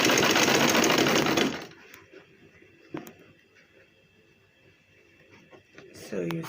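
A sewing machine runs in a fast continuous burst while stitching aso oke fabric for a gele, then stops abruptly, leaving quiet handling noises and a few faint clicks.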